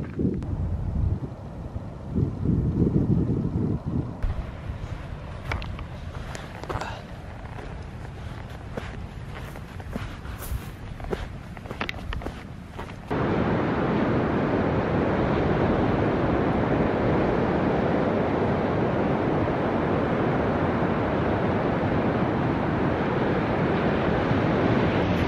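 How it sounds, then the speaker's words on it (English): Choppy sea surf and gusting wind on the Scottish coast near Cape Wrath, with irregular footsteps and rustling early on, then a steady loud roar of waves and wind buffeting the microphone. "Sea looks a bit choppy to go in"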